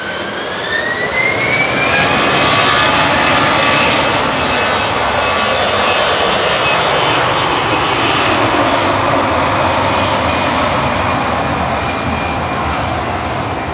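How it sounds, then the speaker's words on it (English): Ryanair flight 3239 from Brussels Charleroi, a jet airliner at Manchester Airport, roars loudly and steadily, with a rising engine whine over the thick rumble and no talk. "Ryanair 3239 from Brussels Charleroi in the background"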